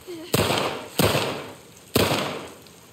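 Three sharp gunshots in The Last of Us Part 2, spaced irregularly, each a loud crack with a lingering echoing tail in an outdoor setting, some distance away.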